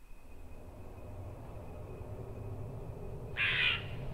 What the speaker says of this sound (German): Krähe am Start.